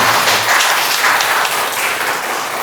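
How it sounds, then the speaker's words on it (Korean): An audience at a guest speech event gives a dense, steady round of applause, many hands clapping together at close range, loud and sustained without voices over it. "다시 한번 큰 박수 주시면"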